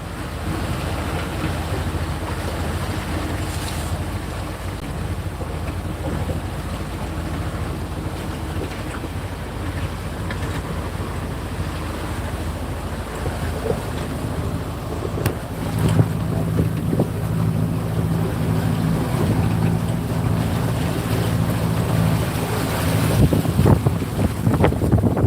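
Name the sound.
sailboat sailing at sea in the wind off Fiji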